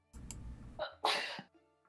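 A single sharp sneeze bursts out close by after a brief rustle of background noise, followed by a quiet pause.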